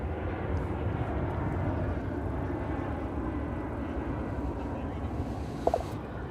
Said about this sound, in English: here's the United jet, which is going back to Denver. It's an Airbus A319.